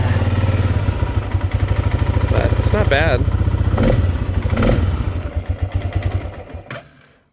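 A 2003 Arctic Cat 400 4x4 automatic ATV engine runs with a rapid, chugging putter close by, pulsing steadily and fading near the end, while someone speaks briefly over it.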